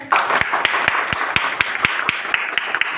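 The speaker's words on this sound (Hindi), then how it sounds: "चलिए ताली लगा दीजिए तो जरा।" Classroom students clapping in unison, a rhythmic run of sharp, evenly spaced claps over a light wash of scattered hand noise, fairly close.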